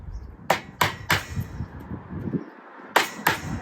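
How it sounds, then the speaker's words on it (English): A chisel is tapped along the lattice of a big wooden chair: five sharp, distinct taps, three in quick succession, a pause, then two more, fairly quiet against faint background noise. "use my chisel, run it along, a couple of taps"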